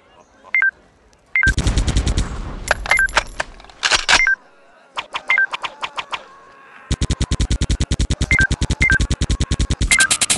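Mobile video game gunfire comes in rapid bursts of sharp electronic shots with short gaps, building to a long fast volley near the end, loud and close, mixed with small chiming game tones.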